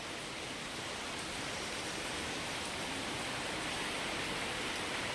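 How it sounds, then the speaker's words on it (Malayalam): Steady rain pours down in a dense, continuous hiss, even and unbroken throughout, with no voices. "അടുത്ത മഴ മെല്ലെ മെല്ലെ കൂടി വരുന്നുണ്ട്"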